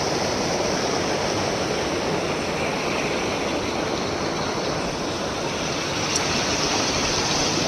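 Waterfall near Rishikesh in Uttarakhand, a steady broadband roar of rushing water that stays loud and close throughout with no pauses.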